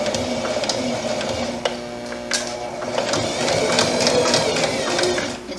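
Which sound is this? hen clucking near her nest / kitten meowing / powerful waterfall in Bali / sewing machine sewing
sewing machine sewing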